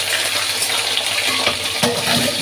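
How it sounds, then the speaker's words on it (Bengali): Fish oil poured into a hot cooking pan while preparing a greens dish gives a brief, close, steady sizzling and gushing hiss with a few small clinks. "এখন আমি মাছের তেলগুলো দিয়ে দেবো"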